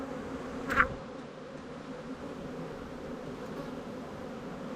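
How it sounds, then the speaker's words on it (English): Honeybees hum steadily at a commercial bee yard around an open hive, a faint, even buzz with one brief closer swell near the start. "So many bees finding the queen, right?"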